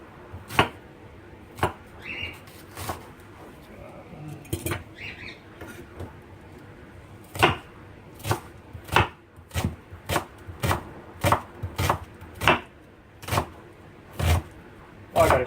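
A knife chops cabbage and onion on a board, with sharp, loud strikes, sparse at first, then a fast, regular run of chops, plus some soft rustling between them.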